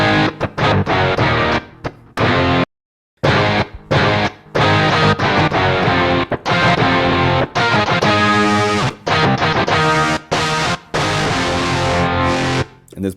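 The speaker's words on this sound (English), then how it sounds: "And this brings up a distortion kind of sounds." A heavily distorted electric guitar from a virtual instrument sample library plays loud, dense, sustained chords and riffs, broken by short abrupt cuts and one clear gap of silence partway through.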